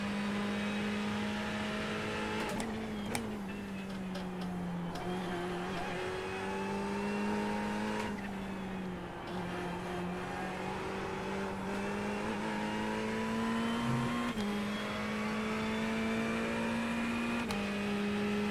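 A Ferrari race car engine in the iRacing video game, droning at a steady high pitch with small shifts in revs throughout, held loud and continuous with no break.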